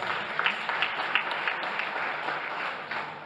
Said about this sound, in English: Let's clap hands for Jesus Christ.